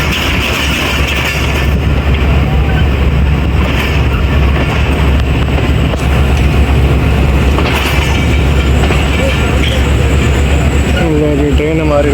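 A train running on the Gujrat to Attock line passes through a loop line, giving a steady loud rumble of wheels and carriages with rhythmic clatter throughout and a faint squeal near the end, while people talk over it.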